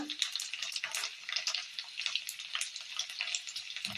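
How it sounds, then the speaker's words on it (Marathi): Crackling, spitting sizzle of cumin and mustard seeds frying in hot oil, continuous and close, with bright popping bursts throughout. "मोरी तडतडली आता लसूण टाकला"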